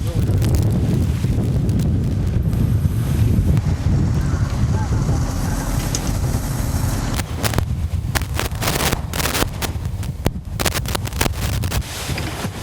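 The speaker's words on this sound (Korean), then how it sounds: "시간이 갈수록 바람은 더 세지고 파도도 높아만 갑니다." Strong sea wind roars across a microphone on a small fishing boat as waves build, a dense continuous rush with heavy low rumble and bursts of crackling wind buffeting toward the end.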